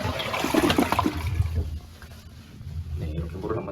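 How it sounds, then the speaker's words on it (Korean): A toilet tank is flushed after its supply valve is shut off, giving a loud rushing gush that tapers into a quieter trickle and draining water. "그때 이제 물을 한번 내려주시고요."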